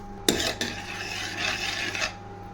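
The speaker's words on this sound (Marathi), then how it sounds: "हे सर्व एकत्र भाजून घेऊया चांगले तेलामध्ये." Whole spices (cinnamon, cumin, cloves, bay leaves) tossed with chana dal and rice in oil, scraped and stirred in a pan with a few sharp clinks and a steady gritty rasp, close and alone.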